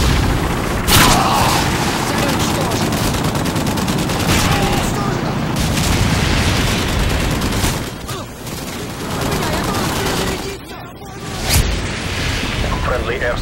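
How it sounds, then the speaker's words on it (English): Predator missile strike explosions and heavy gunfire in Modern Warfare 2 on the Derail map, loud continuous booming blasts and rattling shots filling the scene, with brief dips and a game voice announcing over the din. "Friendly Predator missile inbound."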